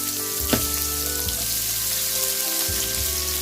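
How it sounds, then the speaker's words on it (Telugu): Onions frying in hot oil for a Telugu snail curry, a steady close sizzle with occasional stirring clatter and a faint background hum, no talking. "ఆయిల్ కూడా వేడెక్కిన తర్వాత ఉల్లిపాయలు"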